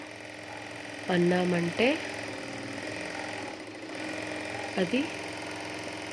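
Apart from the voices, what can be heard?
Jack F4 sewing machine winding thread onto bobbin via pedal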